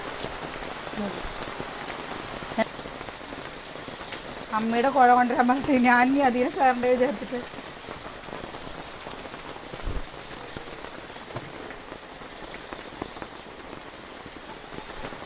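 Rain pours steadily on an outdoor surface, a dense hiss that runs throughout beneath ongoing talk, with a short burst of clattering or sizzling activity near the middle.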